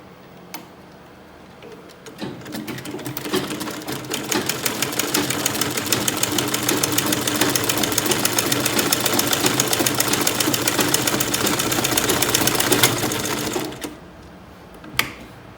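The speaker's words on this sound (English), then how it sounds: "Now I've sewn one side, I'm sewing on this other side." A sewing machine stitches boning channels on an underbust corset, running at a steady rapid rhythmic clatter for about eleven seconds, close and loud, before stopping with a final click.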